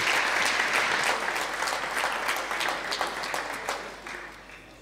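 An audience at the SA Open squash final applauds loudly and steadily for the players, a dense sustained burst of clapping that slowly tapers toward the end.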